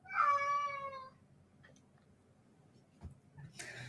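A house cat gives one clear, drawn-out meow close by, then quiet room tone with a few faint ticks and rustles.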